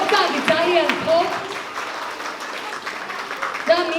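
An audience at a school graduation ceremony applauds in a dense, steady patter while voices call out and talk over the clapping.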